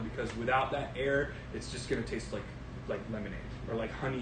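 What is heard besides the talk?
No everyday noises stand out.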